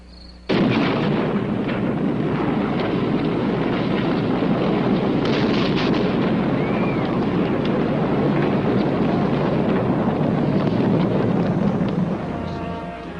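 The first atomic weapon detonates over the New Mexico desert, a sudden loud blast that swells into a sustained, dense rumbling roar lasting over ten seconds before easing off.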